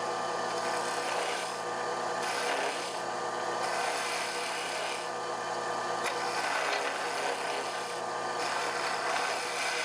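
A wood lathe turns a chisel handle while a cutting tool shaves the spinning wood, giving a continuous close rasping whir with gentle swells and no talking throughout.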